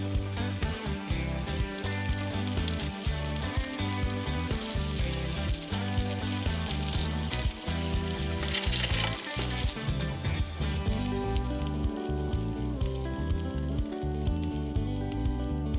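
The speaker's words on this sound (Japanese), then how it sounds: "コーンフレークをまぶします。 多めの油で揚げ焼きにします。" Cornflake-coated chicken tenderloin shallow-fries in plenty of oil, a continuous bright sizzle swelling and easing under steady background music.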